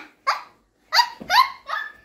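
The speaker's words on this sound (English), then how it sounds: "And this is my dog." Dog barking, four short sharp barks in an uneven rhythm, close and loud with brief silent gaps between them.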